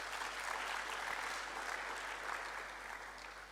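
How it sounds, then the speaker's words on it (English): A conference audience gives a steady, dense round of applause at a national biennial conference, the clapping sustained and fairly distant, fading slightly toward the end. "Can we also give him a big round of applause?"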